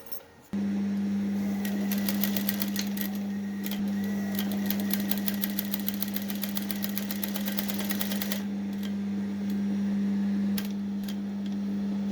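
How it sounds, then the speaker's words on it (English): A sewing machine stitches the hem of a flared circle dress with a steady, continuous mechanical drone and rapid even needle ticking, close and alone, pausing briefly near the end. "So what we are going to do now is to just sew in quarter of an inch or half all through from the edge all through"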